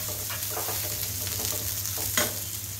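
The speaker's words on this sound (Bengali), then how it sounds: "পেঁয়াজটা দিয়ে একটু ভাজা ভাজা করে নিব" Onion frying in a pan with oil, a steady soft sizzle with faint stirring scrapes, continuous and close with no talking.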